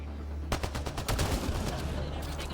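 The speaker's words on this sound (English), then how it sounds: "Was I a victim of my own concussion rifle?" Concussion rifle in the video game Mass Effect Andromeda: a rapid burst of sharp, punchy blasts firing in quick succession for about two seconds, loud and close within game noise.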